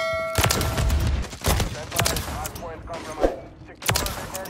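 Bursts of gunfire in a Call of Duty Modern Warfare III online match, rapid overlapping volleys that fill the clip, with excited players talking and shouting over them.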